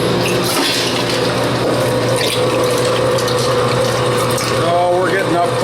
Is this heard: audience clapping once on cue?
no